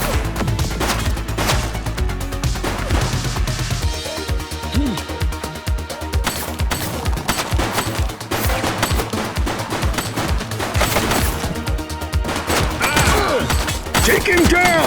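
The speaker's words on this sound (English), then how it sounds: "She's shooting!" Dense gunfire from The Precinct, a police video game, with rapid bursts and single shots crackling over a steady game soundtrack for the whole stretch, loud and close, with speech mixed in.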